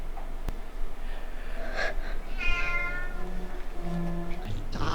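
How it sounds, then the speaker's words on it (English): A cat meows in a film scene, a clear drawn-out wheezy meow with a shorter cry after, heard alone over a low ambient background. "Oh, this bloody cat."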